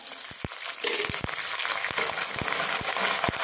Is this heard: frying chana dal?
yes